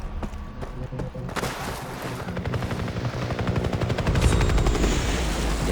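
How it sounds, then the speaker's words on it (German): In the Far Cry 3 video game, rapid machine-gun fire rattles in dense bursts while a helicopter rotor thumps underneath, building louder toward the end of the loud, continuous battle. "Der Helikopter. Da haben sie sicher die anderen Krieger hingebracht."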